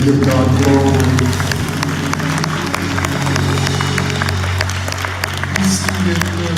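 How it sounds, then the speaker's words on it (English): A church congregation claps hands in a steady rhythm of sharp, closely spaced claps over sustained music and crowd noise. "Clap those hands, everybody, and give God glory."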